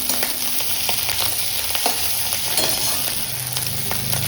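Food fries in a pan on a gas stove in a home kitchen, a close, even sizzle with occasional stirring taps and scrapes, no voices.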